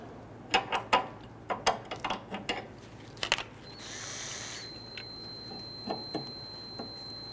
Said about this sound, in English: 18mm socket, go ahead and loosen and remove the sway bar end link nut.